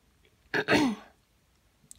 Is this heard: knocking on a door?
no